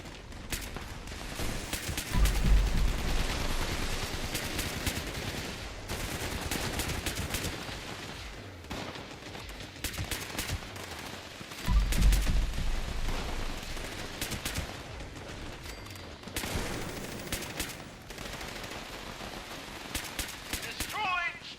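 Repeated gunfire in the Fallout 76 video game, with bursts of shots recurring every few seconds at moderate loudness amid game ambience, while a voice talks intermittently.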